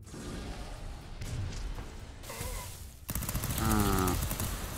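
Rapid machine gun fire rattles in the side-scrolling action game Fury Unleashed during a tank miniboss fight, steady chattering bursts with whooshing effects, growing louder and denser in the second half.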